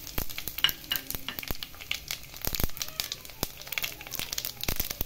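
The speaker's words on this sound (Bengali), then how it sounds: "এবারে দেবো আমি ফোড়ন, কালো জিরে, জিরে, শুকনো লঙ্কা," Whole spices of black cumin, cumin, dried chili and bay leaf crackle and sizzle in hot oil in a kadai, a dense close popping with stirring scrapes, while someone talks over it.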